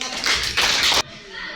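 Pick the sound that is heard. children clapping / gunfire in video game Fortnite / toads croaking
children clapping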